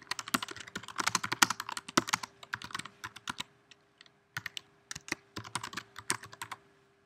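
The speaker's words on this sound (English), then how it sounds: "I'm just going to type in my text." Close, quiet keystrokes on a computer keyboard: rapid bursts of crisp clicks with short pauses between runs, and no voices.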